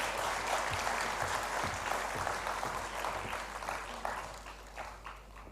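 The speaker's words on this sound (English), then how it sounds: "Let's have a round of applause for the release" Sustained clapping from an audience, a dense wash of many hands that holds steady and then gradually thins toward the end.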